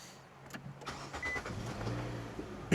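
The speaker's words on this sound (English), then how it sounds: "So I'm going to start the engine" A 2017 Nissan Sentra 1.8 engine with a check engine light on cranks and turns over in a sustained low rumble, fairly close, with a sharp knock at the very end.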